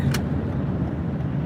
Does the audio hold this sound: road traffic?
yes